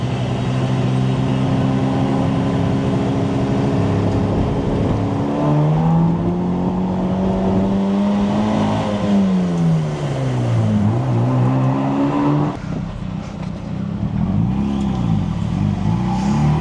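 A Mazda RX-7 sports car revs hard in first gear, its rotary engine note climbing, dropping and climbing again in repeated pulls; loud and close, with steady engine drone throughout and no talk.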